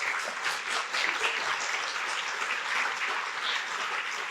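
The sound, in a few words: audience applause for scholarship reviewers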